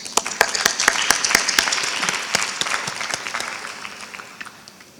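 Audience applause welcoming a speaker to the stage at an alumni women's event, a crowd of many hands clapping steadily, loud at first and slowly fading over five seconds.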